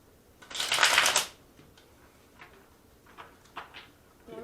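A deck of playing cards is riffle-shuffled up close, a loud fluttering burst about a second long. Softer scattered clicks and shuffles of the cards follow, with no talking.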